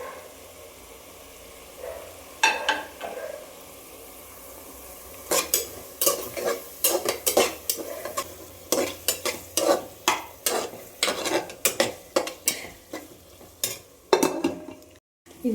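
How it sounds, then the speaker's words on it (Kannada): Peas, mixed vegetables and tomato fry in a pan under a soft sizzle while a spoon stirs in quick repeated scrapes and clinks, growing busier and rhythmic after a quiet opening. "ಸ್ವಲ್ಪ ಒಂದು 10 ನಿಮಿಷ ಚೆನ್ನಾಗಿ ಫ್ರೈ ಮಾಡ್ಕೋಬೇಕು ಇದನ್ನು."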